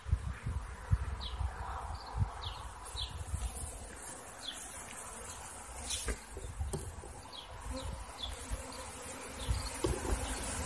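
A dense, steady buzz of many honey bees swarming around a hive box fills the air outdoors, with chirping and some rustling throughout.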